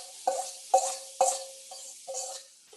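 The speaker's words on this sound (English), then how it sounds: "So I'll be tossing in the onions and be turning in." Onions are stirred in a dry pot with no oil, producing several distinct metallic scrapes and clinks of a utensil against the cookware, close and clear, with light sizzling between strokes.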